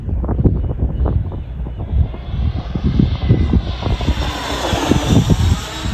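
A Freewing Hornet RC jet flies past with a steady ducted-fan rush that swells and shifts in pitch. Wind buffets the microphone beneath it, and no one speaks.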